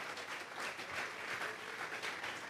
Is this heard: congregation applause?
yes